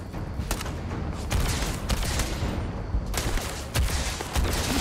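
Sniper gunfire in the video game Starfield: sharp shots ring out over a steady, dense battle and ambient noise, with a few distinct louder cracks spaced through the stretch.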